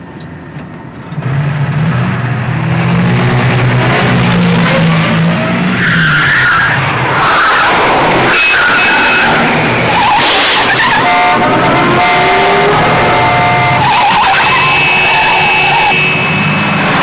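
A motor car pulls away from an airport control tower with tyres skidding and squealing, its engine loud and close throughout, squeals rising and falling over a sustained roar.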